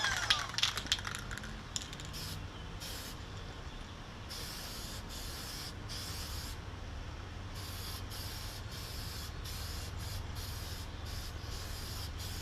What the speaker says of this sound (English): This toner lacquer dries pretty quick, so I'm not really worried about any overspray.